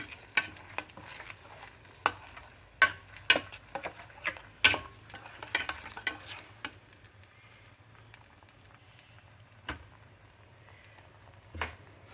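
Ground masala paste for paneer tikka masala fries in a pan, heard as a faint low sizzle under irregular clicks and taps of a spoon stirring, louder in the first half then sparser.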